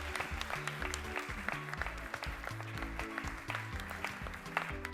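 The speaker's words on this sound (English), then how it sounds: "Let's give them a big round of applause." Audience applause for a school cooking team at a zonal cooking competition, steady moderate clapping running throughout with strong low musical tones playing underneath.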